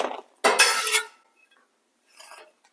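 Crispy biscuit bites are tapped and shuffled on a Blackstone griddle, giving a short burst of light hard clicking and scraping, then a pause and a fainter second rattle, all close up with no talk.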